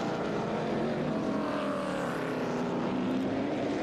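Late model race cars thunder around Flamboro Speedway in the APC Late Model Series, a dense continuous engine roar with shifting pitch as the pack passes, loud and unbroken throughout.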